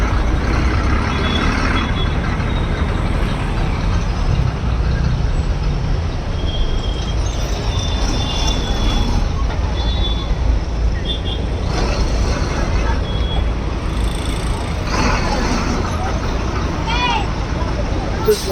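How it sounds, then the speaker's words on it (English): Heavy traffic roars steadily along a Chennai main road with public buses passing, dense engine rumble and hiss throughout, punctuated by brief high horn or brake tones, loud and continuous. "This is one of the public transport, the buses here."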